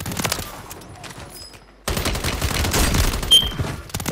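Gunfire in a film scene: rapid bursts of shots crackle in a dense fusillade, cut off briefly, then resume louder and sustained like automatic fire, close and harsh.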